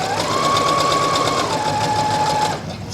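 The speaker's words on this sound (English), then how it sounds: "And then I'm going to sew straight 5/8." A sewing machine runs steadily for about two and a half seconds, stitching a patch pocket with a flap on a straight 5/8 seam line, its motor hum loud and close before it slows and stops.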